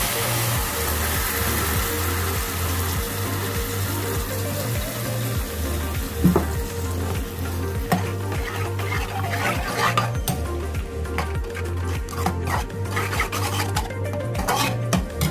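Curd is stirred into frying veg pulao masala in a pan, with a steady rhythmic scraping of the spoon against the metal and occasional clinks, continuous and close throughout.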